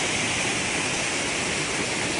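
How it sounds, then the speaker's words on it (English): A waterfall on a rocky stream pours steadily nearby, a dense, unbroken rush of water with no pauses or voices. "The waterfall we were sitting on the last time is just right there past the kids."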